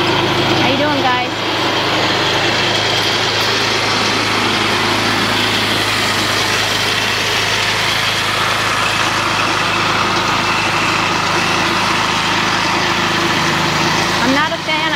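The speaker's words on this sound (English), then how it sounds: "this motor is not too bad. I believe it's a Honda motor." A Honda motor on horse-drawn hay tedder equipment runs at a steady idle-like drone, constant and fairly loud throughout without change in pitch.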